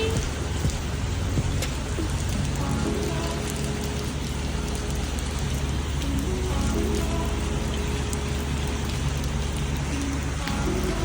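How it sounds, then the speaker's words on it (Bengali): Heavy, steady rain pours down outdoors at a seaside resort in Mandarmani, a dense continuous hiss of drops drumming on surfaces throughout, loud and close with no voices. "এই হচ্ছে বাইরের অবস্থা বৃষ্টি বৃষ্টি বৃষ্টি"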